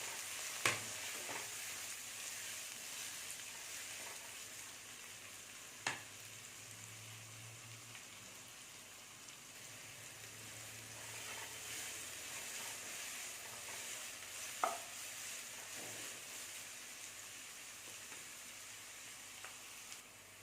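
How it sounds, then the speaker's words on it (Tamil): Chopped onion, green chillies and ginger sauté in a pan with a soft, steady sizzle at low volume, broken by a few light utensil taps. "இது எல்லாத்தையுமே சேர்த்து கொஞ்சம் நேரம் இதை வதக்கணும்."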